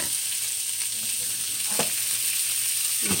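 Shrimp sizzle in a hot pan beside cooked vegetables for a veggie shrimp fried rice, a steady close hiss of frying broken by a couple of brief stirring scrapes.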